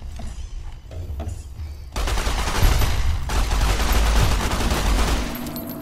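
Submachine gun fire in Fallout: New Vegas, played on Hardcore, Very Hard difficulty. After a quieter lead-in, a loud, dense, sustained burst of close automatic shots rolls on without a break for several seconds.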